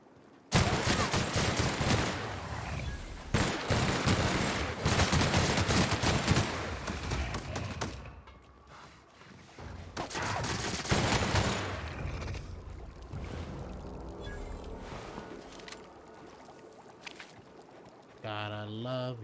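LMG support weapon in The Outer Worlds blazing in long sustained bursts, dense rapid gunfire with short pauses between volleys, loud and close, followed by quieter in-game clatter and effects.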